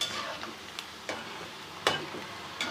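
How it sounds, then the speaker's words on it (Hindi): Besan pieces frying in a pan on a low flame, a soft continuous sizzle with a few light clicks of stirring, close and fairly quiet, no talking. "तो आपने मीडियम से कम फ्लेम पर इसको फ्राई करना है।"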